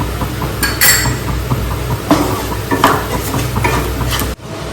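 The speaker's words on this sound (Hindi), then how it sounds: "पोटैटोस को मैश किया जा रहा है।" Boiled potatoes with spices being mashed and mixed in a metal vessel for a samosa filling, close wet squishing with stirring scrapes and light clinks of the utensil, no talking.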